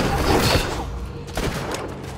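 Kalashnikov-style rifle gunfire in the co-op video game Borderlands 2, a dense, sustained barrage of shots and booms, loud and continuous throughout.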